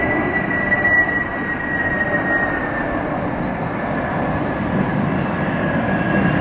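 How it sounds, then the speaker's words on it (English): A Boeing 747 airliner at Hartsfield-Jackson airport gives a steady, loud, broadband engine roar with a faint high whine, holding even throughout with no talk. "this is a 747"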